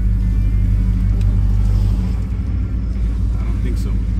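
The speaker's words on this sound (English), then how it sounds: "this guy's revving the engine on us" A car engine revs nearby on a street, a 1972 Chevelle being among the cars there. Its deep, steady rumble holds loud throughout, with a brief dip partway, while people talk over it.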